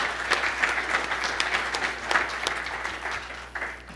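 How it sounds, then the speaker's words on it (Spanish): Audience applause for a panelist at a regulatory conference, a lively patter of many hands with distinct claps standing out, fairly close and steady, fading slightly near the end over a low electrical hum. "aplausos para nuestro panelista"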